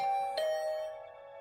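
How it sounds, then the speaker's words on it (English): A doorbell rings in the video game The Hundred Line Last Defense Academy: a clear two-note electronic chime that starts strong and rings out, fading gradually, heard alone. "And I just returned to my room when the doorbell rang."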